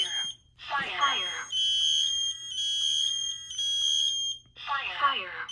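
A Kidde smoke alarm under test gives loud, piercing electronic beeps in steady repeated bursts, with a spoken voice alert sounding between them.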